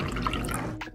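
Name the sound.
pouring water into a sourdough starter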